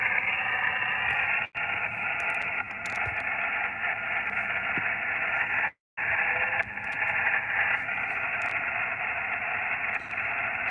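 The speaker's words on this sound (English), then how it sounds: "on single sideband, there is no squelch. You're listening to the static and everything" Steady hiss of static on an amateur radio single sideband receiver with no squelch, continuous and fairly loud throughout with a couple of brief dropouts to silence.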